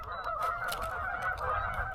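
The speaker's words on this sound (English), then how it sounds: "I'm sure you can hear all them geese in the background." A flock of geese at a conservation lake honks continuously, a dense overlapping chorus of calls carrying steadily over a low background rumble.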